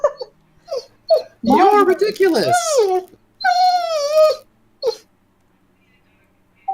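A voice imitates a puppy whining for an Australian Shepherd dog companion in a tabletop game session, with rising and falling whimpering wails over roughly three seconds, surrounded by nearby casual talk.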